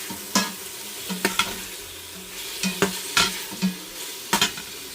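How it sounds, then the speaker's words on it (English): Beef stew browning in a pan, with soft steady sizzling under repeated scraping and stirring clatters from a utensil, several sharp knocks spaced a second or so apart, close by with no talking. "So this is sauteing nicely."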